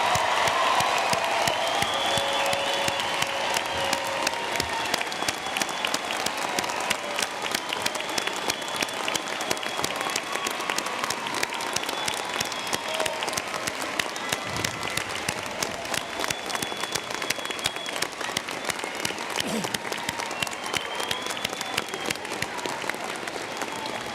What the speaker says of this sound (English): Will the members of the audience please join me in one final round of applause to recognize these graduates?